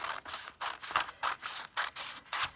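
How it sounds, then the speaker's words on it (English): Scissors snip through a paper picture in a steady run of about eight crisp cuts, each a short rasping slice followed by a brief pause, close up and with no talking. "you will need a pair of scissors, just so that you can cut it out like this"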